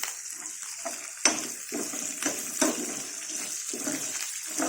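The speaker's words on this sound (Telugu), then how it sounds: "వేగుతున్నాగానే కొబ్బరి ముక్కలు వేసుకోవాలి. ఇవి కూడా వేగాలండి, కొబ్బరి ముక్కలు కూడా కొంచెం వేగాలి." Green chilies and coconut pieces frying in a pan for coconut chutney, a steady crackling sizzle with a few sharper pops and stirring scrapes, close and continuous, with no voices.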